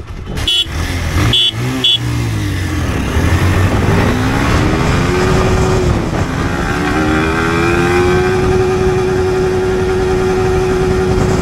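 Sport motorcycles, a Yamaha R15 V4 and a Pulsar 220F BS3, in a drag race, with a loud engine note climbing steadily in pitch as one accelerates through second gear, after a few short blips at the start.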